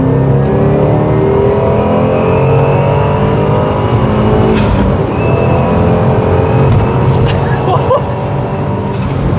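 A modified Subaru WRX accelerates hard at full throttle, its engine note loud, steady and close throughout, with a brief voice near the end.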